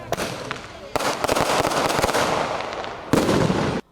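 Fireworks set off in tribute to a singer, crackling in dense bursts with sharp pops, loud and near, with brief pauses between volleys.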